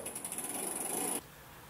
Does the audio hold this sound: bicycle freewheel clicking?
yes